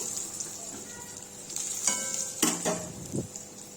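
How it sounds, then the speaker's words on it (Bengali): Eggplant slid into oil left over from frying fish, a steady soft sizzle with a few sharp clinks of a utensil against the pan, close up and without talk. "মাছের তেলেই বেগুনটা দিয়ে দিলাম"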